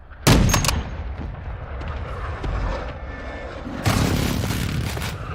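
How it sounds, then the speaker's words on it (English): Precision airstrike explosions in a video game: a sharp blast, then rumbling booms and crackling impacts, with a second heavy burst near the end, loud and close. "Enemy precision airstrike. Find cover."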